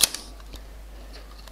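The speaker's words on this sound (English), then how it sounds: "you can hear it's quite a slow shutter speed there that the camera has determined" Nikon FE10 35mm film camera firing its shutter: a sharp mechanical click at the start, then a slow second click about half a second later, close and isolated with no talking.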